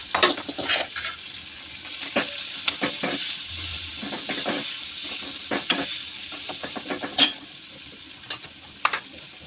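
Onion and green chillies sizzle in a hot cumin and asafoetida tempering, a steady crackle close by, broken by stirring scrapes and a few sharper pops.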